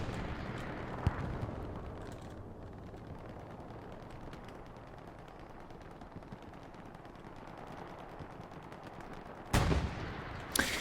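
Aircraft strafing-run gunfire over a half-track in the World War II shooter game Hell Let Loose, a low rumbling roar with scattered distant shots and a loud burst of fire near the end.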